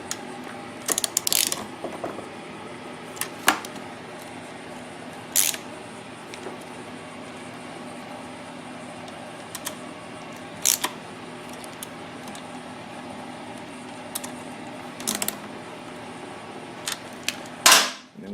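A ratchet wrench runs down the valve cover bolts into the cylinder head of a Predator 2000 engine, giving short bursts of clicking spaced through a quiet stretch, close and clear, with a sharper clatter near the end.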